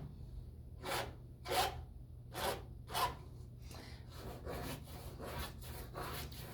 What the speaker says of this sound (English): I think this is a good area to scrape.